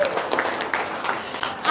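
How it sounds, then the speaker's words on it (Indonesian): An audience claps briefly in scattered, moderate applause, with a voice speaking over it before it swells slightly at the end. "Tepuk tangan"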